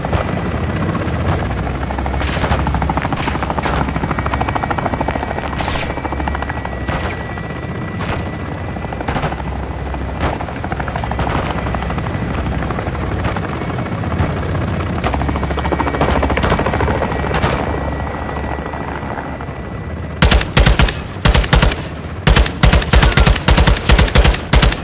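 Helicopter gunship on a gun run in the Call of Duty Modern Warfare 2 campaign: a steady, loud rotor drone with scattered impacts, then rapid, close machine-gun bursts in the final seconds.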